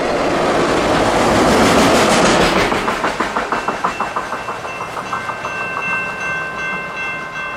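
A train rolls through a railroad crossing on a quiet street, a loud rumbling roar that gives way to a steady clickety-clack of wheels over rail joints, with a faint high tone ringing above as the cars pass.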